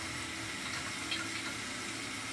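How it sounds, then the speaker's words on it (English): Water runs from a tap in a steady, faint hiss and trickle, a continuous flow with no breaks and no voices over it. "In the running water."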